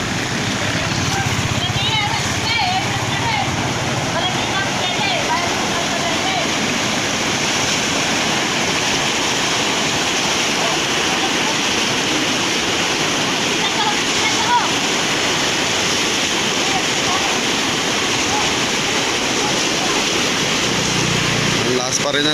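Strong floodwater rushes after Typhoon Ulysses in San Luis, Pampanga, a dense, continuous roar of churning water that stays loud and steady throughout.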